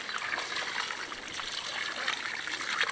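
Water pours steadily onto a dry garden bed at a Spanish finca, a continuous close hiss and patter of trickling water with no talk over it.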